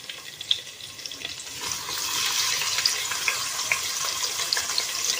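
Chopped onion frying in two tablespoons of oil and 50 grams of butter, a bright steady hiss that swells after a couple of seconds, with small pops and crackles scattered throughout, close and alone.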